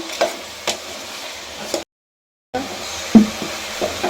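Masala with kasuri methi fries in a pan with a soft, steady sizzle, broken by a few stirring scrapes and a brief moment of total silence midway.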